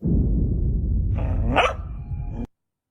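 A dog barks once, sharp and loud, over a heavy low rumble that cuts off suddenly into silence.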